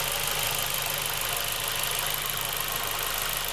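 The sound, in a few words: Ford Focus 2 engine idling after warming up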